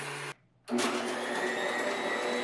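A loud, steady electric motor whir from a vintage Oster ice cream maker runs continuously, cutting out briefly for a moment near the start before resuming at full strength with no talking.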